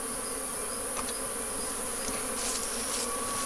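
A dense swarm of honey bees buzzes steadily during a honey harvest, a continuous close, loud hum with brief sharper wingbeat flickers and no voices.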